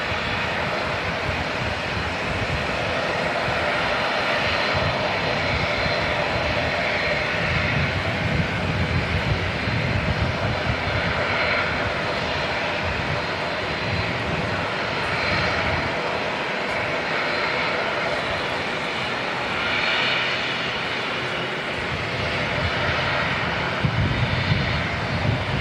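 A Jetstar jet's engines roar steadily and loudly at Auckland Airport, a broad continuous rumble holding for the whole stretch with slight swells in intensity.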